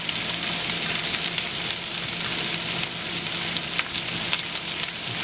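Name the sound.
vegetables frying in a pan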